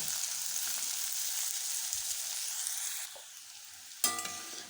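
Bitter gourd sautéing in a kadai: a dense, even sizzle that drops in level partway through, followed by a sudden metallic clank of a spatula against the pan.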